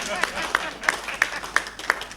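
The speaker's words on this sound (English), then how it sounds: "you can clap for me if you want" Audience at an intellectual property law panel discussion claps for the speaker, heard as six evenly spaced, sharp claps in a slow steady rhythm over a faint room murmur.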